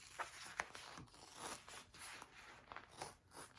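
Scissors or a cutter trim away excess vinyl, giving a faint irregular run of close snips and papery tearing rasps, quiet and uneven, with no voices over them.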